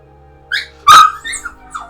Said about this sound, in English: Okay, my dog's going crazy.